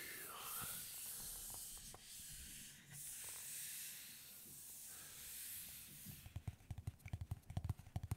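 A steady dry rubbing hiss, like a hand sweeping across a comic book's cover, runs for several seconds, then gives way to a quick series of soft taps and scuffs.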